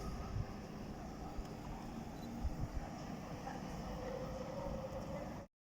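A DLR light-rail train pulls into Greenwich station bound for Lewisham, a steady low rumble with faint clatter of wheels under distant platform ambience, ending abruptly.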